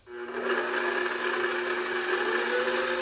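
An electric mixer whirs steadily as it blends pumpkin puree into gluten-free pumpkin streusel muffin batter, a constant motor hum that starts abruptly and holds for about three seconds with no talking.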